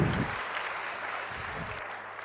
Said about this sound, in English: Audience, can we have a huge applause